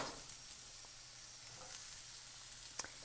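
Potatoes, vegetables and black beans sizzle in a pan, a soft continuous hiss with occasional faint spatters and a light scrape of stirring, fairly quiet and without any voices.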